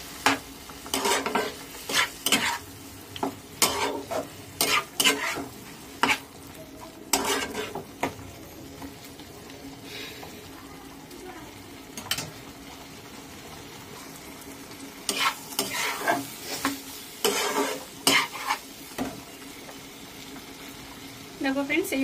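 Banana flower curry with prawns stir-fried in a pan, spatula scraping and knocking in bursts against the metal over a steady, fairly loud sizzle.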